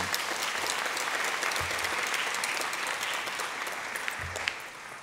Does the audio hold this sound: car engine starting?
no